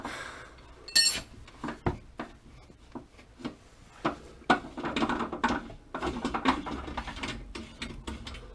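A wrench ratchets in quick clicking bursts while coilovers are fitted to a Bugeye Subaru WRX in a garage, with metallic clanks and tool knocks close by and irregular pauses between the bursts.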